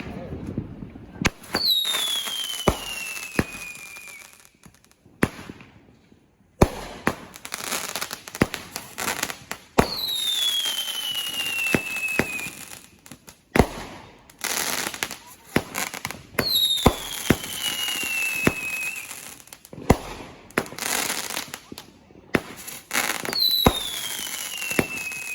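A 200-gram, 25-shot consumer firework cake named Mental Breakdown firing outdoors: repeated launch thumps, each followed by a rising whistle and crackling bursts, loud and close, recurring in waves across the whole stretch.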